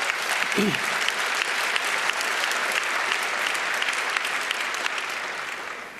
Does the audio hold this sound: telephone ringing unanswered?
no